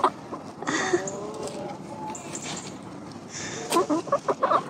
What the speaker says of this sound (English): if you look to our right, there are some cute chickens too.